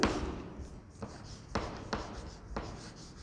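During a physics lecture on Newton's rings, someone writes on a board, and several crisp taps and strokes stand out against a steady room background. No one speaks.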